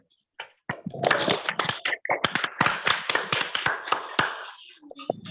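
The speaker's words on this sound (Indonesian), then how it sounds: "Tepuk tangan untuk kita semua" Rhythmic group clapping in a classroom, a burst of claps in a patterned beat after a brief pause, loud and close, with some voices mixed in.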